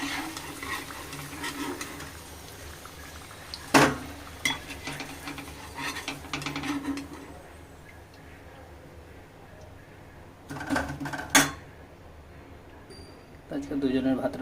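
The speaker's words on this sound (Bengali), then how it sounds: "নেড়ে নেবো আলুটাকে" Fried potatoes are stirred in a pan, a spatula scraping and knocking against the metal in short bursts over a constant sizzle, with a voice speaking at intervals.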